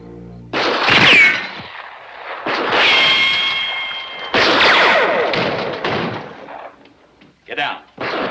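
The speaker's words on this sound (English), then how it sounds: "Gunfire." Gunfire in a 1957 western, with sharp loud cracks and thuds in bursts spread across the scene, mixed with shouting voices and dramatic film sound.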